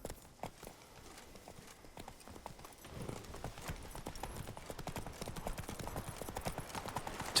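Roach, the horse in the video game The Witcher 3, gallops with a rapid, even rhythm of hoofbeats that grows louder and more driving after a quieter opening.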